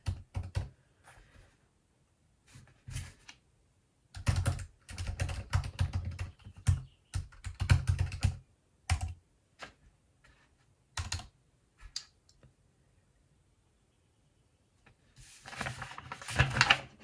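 Fingers typing notes on a computer keyboard, close bursts of quick clicky keystrokes separated by short pauses, with a final flurry near the end, no talking.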